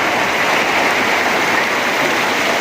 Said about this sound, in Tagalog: Lumalagas-las ang tubig.